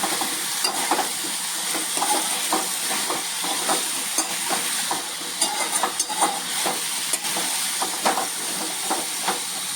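Sweet potato slices fry in a pan, a constant bright hiss layered with frequent crackles and soft pops, close and steady throughout with no voices.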